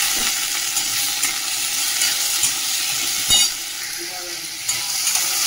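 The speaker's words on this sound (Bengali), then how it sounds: "তাহলে আলু পেঁয়াজটাকে একটু নেড়ে নিলাম তেলে।" Potatoes and onions frying in hot oil, giving a steady dense sizzle throughout with a few soft clinks and stirring scrapes, close and continuous.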